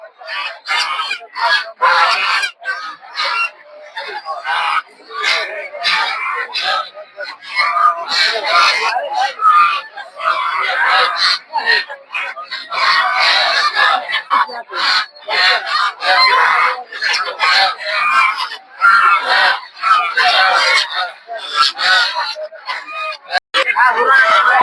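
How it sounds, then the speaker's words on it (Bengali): Large Chinese ducks honk and quack in bursts at the Gausia Golakandail poultry market, a busy, close, uneven chorus with people talking amid the birds. "দেখতে পাচ্ছেন এগুলো হচ্ছে চীনা হাঁস একটু বড় সাইজের"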